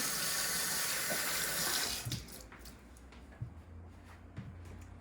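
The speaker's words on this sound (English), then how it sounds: "now I'm gonna wash my hands before I get started" A kitchen faucet runs in a steady, loud rush of water for hands being washed, then shuts off, leaving a few faint splashes and clatters in a quiet room.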